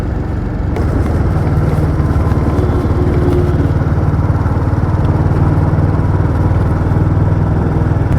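A motorcycle engine runs steadily and loud throughout while riding on the road, a continuous close drone with no talk over it.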